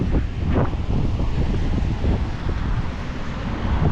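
Strong outdoor wind in Workington on a sunny day, roaring steadily into the microphone as a loud, continuous buffeting rumble with no voices.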